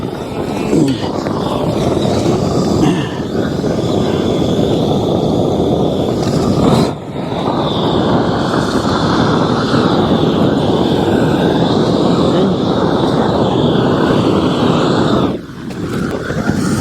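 Loud, continuous roaring hiss of a roofing torch heating and melting a roof seam, close by, with two brief dips where the flame is pulled back.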